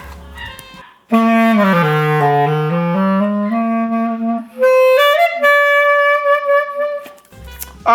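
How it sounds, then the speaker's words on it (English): A Buffet Crampon clarinet plays a clear, loud melodic phrase alone, with sustained reedy notes stepping through a line and ending in a long held tone. "This is my buffet crampon clarinet."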